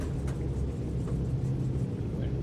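Aircraft taxiing on a runway in Microsoft Flight Simulator, a steady low engine rumble droning evenly throughout without distinct events.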